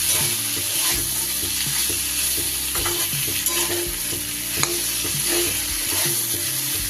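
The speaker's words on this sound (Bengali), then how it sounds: "এবার দিয়ে দেবো আমি ভেজে রাখা পেঁপেগুলো। মশলার সাথে খুব ভালো করে মিশিয়ে নিলাম।" Fried papaya pieces stirred and tossed with spices in a pan for a Bengali vegetarian papaya ghanto with chickpeas: steady scraping strokes over a continuous oily sizzle, close and fairly loud, with no talking.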